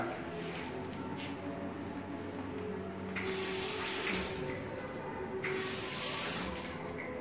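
Tap water runs into a sink for hand washing, a steady splashing hiss that grows brighter and more spattery in two bursts as hands move under the stream, close by and fairly quiet.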